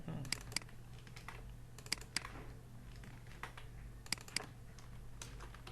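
Keys tap on a computer keyboard in short, uneven clusters with a few sharper clacks, quiet and close over a low steady hum, with no talk.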